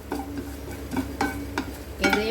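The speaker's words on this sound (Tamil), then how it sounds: "தனியா, சீரகம், வெந்தயம் இதையும் போட்டு வறுத்துக்கலாங்க." Coriander, cumin and fenugreek seeds dry roasting in a pan, stirred in a few distinct scraping strokes with a light rattle of seeds, close and moderately loud with no talk.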